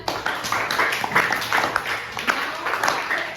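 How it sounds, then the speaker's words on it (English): Children clapping for themselves in a boys' school classroom, a sustained ragged round of applause from many small hands, moderately loud with some voices mixed in. "Clap for yourself."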